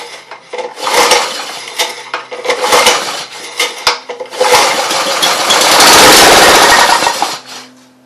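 A Honda HR194 lawn mower that sat outside for years is pull-started: a few rattling yanks of the cord, then the small engine catches and roars loudly and steadily up close before dropping off.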